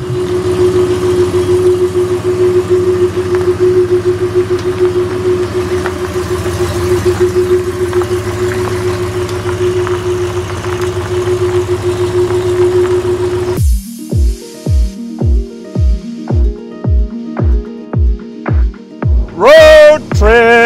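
A Porsche 928's engine holds a steady, close throbbing drone for about thirteen seconds, then shifts into a rhythmic series of loud, evenly spaced pulses as the car runs on the road.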